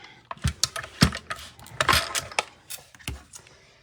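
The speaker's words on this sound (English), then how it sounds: "So I got my mini Stampin' Cut and Emboss machine, which is shaking the table because it's just a little card table." Small Stampin' Cut and Emboss mini machine clattering on a lightweight card table, giving irregular sharp ticks and rattles with a brief buzzing whir in the middle, close and moderately loud.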